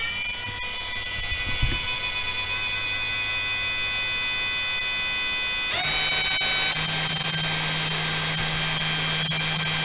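A Genmitsu CNC 4040 Pro spindle runs at 2,000 RPM with a steady, fairly quiet high-pitched electric whine, stepping up sharply in pitch about halfway through and holding there, with no voices.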